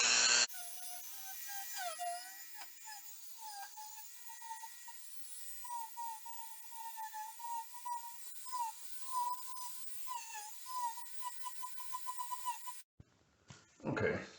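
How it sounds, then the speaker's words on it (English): A small Dremel rotary tool with a little wire wheel runs steadily with a high whine, working on an outdoor shower repair, its pitch wavering as it bites and eases off, mid-distance and fairly quiet, stopping abruptly near the end. "I'm going to try using my Dremel tool with a little wire wheel"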